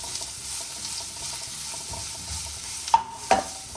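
Ginger, garlic and tomato sizzle softly in a pan for dal curry, with quiet stirring and two sharp metallic scrapes of the spoon near the end.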